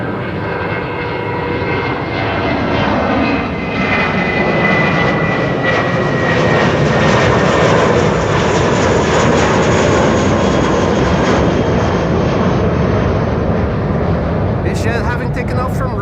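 A VistaJet Germany Embraer Legacy 650E business jet taking off from runway 22 at Amsterdam Schiphol, its engine roar loud, close and sustained throughout with a broad rushing tone.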